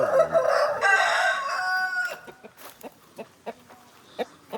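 A native country rooster on a farm in Mangalore crows loudly and close by in one long drawn-out call, then a series of brief clucks and scattered farmyard sounds follows.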